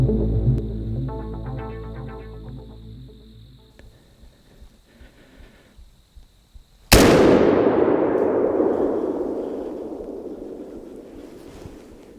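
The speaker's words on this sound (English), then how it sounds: "I definitely missed that doe. I shot a little bit far to the right." A single loud rifle shot from a .450 Bushmaster AR-15 during a deer hunt cracks out sharply, then trails into a long fading echo. Before it, a steady electronic tone and faint rhythmic insect-like chirping fill the quiet woods.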